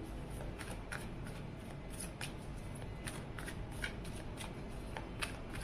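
Tarot cards are shuffled steadily and softly at close range during a reading, a continuous papery riffling with small flicks, with no talking.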